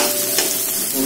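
Onions stir-fried in a pan for a leafy katuk and baby corn dish, giving a steady close sizzle with faint stirring scrapes, no voices.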